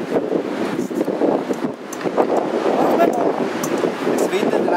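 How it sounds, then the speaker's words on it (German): Strong wind buffets the microphone at a roadside stop on the California coast between Los Angeles and San Francisco, a steady loud rushing roar with gusty swells and no speech. "Es windet recht."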